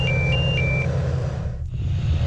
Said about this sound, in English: both operators receive an alarm.